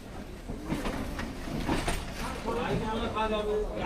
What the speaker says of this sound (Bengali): ট্রেন ছেড়ে দিল এই মুহূর্তে শিয়ালদহ স্টেশন থেকে